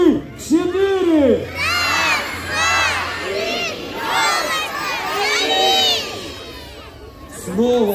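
Crowd of children shouting and cheering loudly together at a New Year tree lighting countdown, with repeated rising calls and whoops filling the whole stretch.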